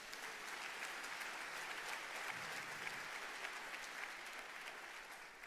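A church congregation applauds steadily during a sermon, a dense, even wash of clapping that holds at constant loudness with no voices over it.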